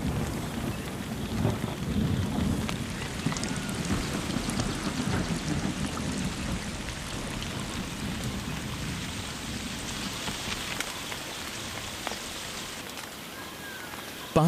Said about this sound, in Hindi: मॉनसून दोबारा लौट आता है।